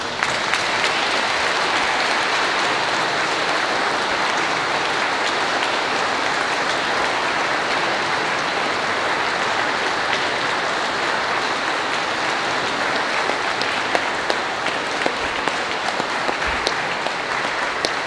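Congregation applauding inside a church during a new pastor's installation, a long, sustained wash of dense clapping that stays even and loud from start to finish.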